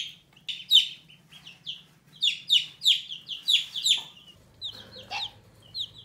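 Chickens at a Tractor Supply farm store cluck and chirp in quick, bright bursts, several birds calling close by over a low steady hum of the store, with no talk.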